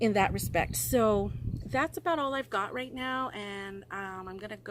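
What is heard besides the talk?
None of the usual background noises is heard.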